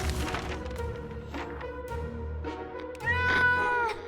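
A cat meows several times in the survival game 60 Seconds, a series of drawn-out plaintive cries ending in a louder, higher wail, heard over a steady game music bed.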